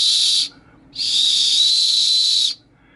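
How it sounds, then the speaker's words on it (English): A plastic survival whistle from a hiking and camping survival kit gives two shrill, steady blasts, a short one and then a longer sustained one, loud and close with no talking. "another whistle that doesn't work that good"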